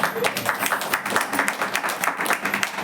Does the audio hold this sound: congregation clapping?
yes